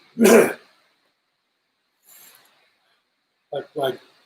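A single sharp cough up close, followed after a pause by a faint breath and two short vocal bursts.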